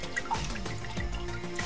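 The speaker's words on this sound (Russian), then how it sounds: "Открываем кран. Регулируем." Water running from an open tap onto a smeared glass pane, a steady close splashing stream with dripping patter and no talk.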